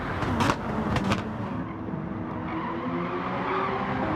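Race cars in Gran Turismo 7 slide sideways through a corner, giving a loud, continuous engine roar with short tire-squeal bursts near the start, and no talking.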